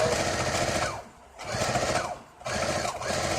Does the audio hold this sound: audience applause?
no